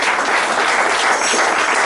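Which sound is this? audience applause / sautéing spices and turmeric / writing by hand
audience applause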